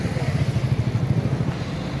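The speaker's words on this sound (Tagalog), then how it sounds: "Motorcycle test drive area." A motorcycle engine putters at idle in a bike festival test-ride area, a steady, fairly faint, low rhythmic thrum with a light clatter.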